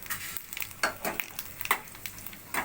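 Tempering spices fry in hot oil in a wok, giving a soft continuous sizzle broken by repeated scraping stirs, fairly quiet and close.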